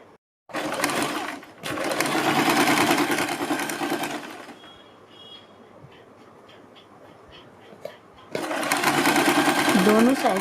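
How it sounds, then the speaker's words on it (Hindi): An electric sewing machine stitching the folded hem of a ladies' top: loud, close, steady whirring runs start and stop, with a quieter gap in the middle before the motor runs again at full speed. "यहाँ पर हम सिलाई लगाते चले जाएंगे"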